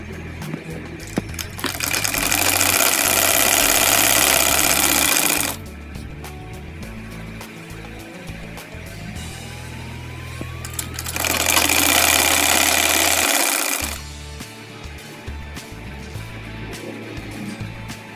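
A sewing machine stitches a double-folded hem in two loud, steady bursts of rapid whirring, separated by quieter handling and fabric shuffling.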